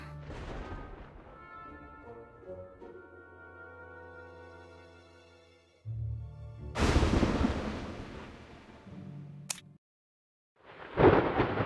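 Stormy night in the video game Identity V: a deep, sustained roll of thunder bursts in midway and rumbles loudly for several seconds, then a second crack returns at the end, over a dark, droning game score.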